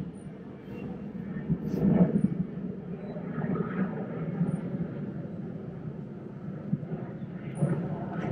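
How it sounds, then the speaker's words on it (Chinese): An airplane passes high over a quiet residential compound in Haicang, Xiamen, heard as a faint, distant low drone that swells slightly and then eases, blended into soft outdoor ambience. "但是上面有飞机经过，我能听到飞机的声音"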